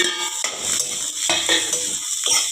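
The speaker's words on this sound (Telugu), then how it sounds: "ఉల్లిగడ్డ ఫ్రై చేసుకోవాలండి ఒక టూ మినిట్స్ అయ్యాక ఉల్లిగడ్డలు మిర్చి వేసుకోవాలండి" Onions and chilies frying in hot oil in a pan, a steady bright sizzle broken by several scraping stirs of a utensil against the pan, close and loud with no talking.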